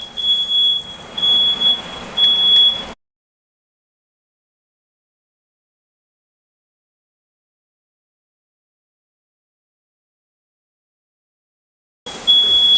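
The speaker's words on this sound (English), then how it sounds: "So this is why the alarm's going off." A shrill smoke alarm beeps repeatedly for a few seconds in a kitchen while steak is cooked, then a long silence follows before the beeping starts again.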